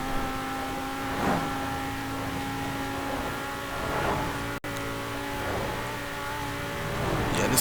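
A 1995 BMW M5 engine in Forza Horizon 4 pulls uphill at high speed, a sustained droning engine note with gear-like swells and brief dips, one sharp dropout midway, loud and close throughout.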